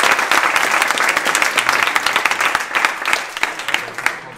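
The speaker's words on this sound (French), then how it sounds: "Je pense qu'on peut les applaudir quand même." Audience applause after a talk on esports entrepreneurship, dense steady clapping from a seated crowd in a hall that stays loud throughout and begins to thin near the end.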